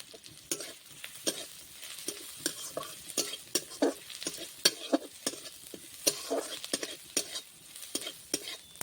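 Onion, garlic, ginger and chopped green chillies fry in a pan while a utensil scrapes and taps in quick irregular strokes over a soft sizzle, close and fairly quiet, without any talking.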